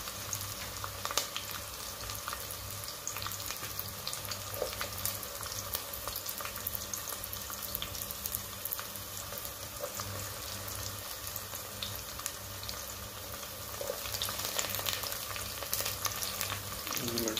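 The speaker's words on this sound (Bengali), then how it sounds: "এরপরে আমি রসুন দিয়েছি, কুচি করে কেটে রেখেছিলাম।" Chopped garlic fries in a pan, with a steady low sizzle and crackle running throughout, faint stirring scrapes, and some swelling of the frying toward the end.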